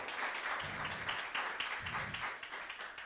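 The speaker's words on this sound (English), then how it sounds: "Let's give a round of applause for Wanjiru." Audience applause for Wanjiru Koinange, co-founder of Bookbank, at a panel event on African narratives and media, a steady medium-loud wash of clapping that swells in a few waves over three seconds.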